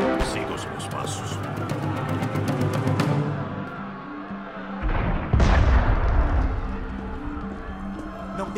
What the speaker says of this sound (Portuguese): Foi um tiro de canhão.